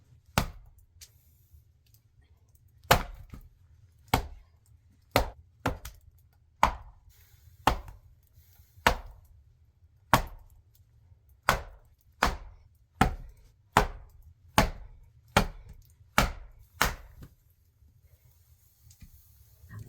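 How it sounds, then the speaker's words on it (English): Axe chopping wood on a slanted log chopping block outdoors in a snowstorm near a hut: about seventeen sharp, crisp strikes in a steady rhythm, each ringing briefly, heard close with quiet between blows. "I have to chop the wood with an axe"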